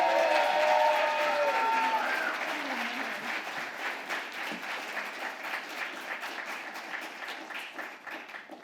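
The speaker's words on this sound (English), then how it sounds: "give a round of applause for Fatima Gonzalez" Sustained applause from an audience at a school writing-competition awards celebration, dense clapping that starts full and gradually thins and softens over several seconds, with faint crowd murmur underneath.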